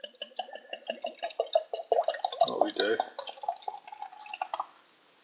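St Peter's Plum Porter, a dark beer, glugs and splashes as it pours from a bottle into a glass, close and bubbly, with someone talking over the pour for most of it before it settles.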